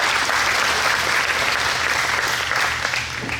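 An audience applauds military veterans with loud, dense, sustained clapping from a large crowd that fills the room, tapering slightly at the very end.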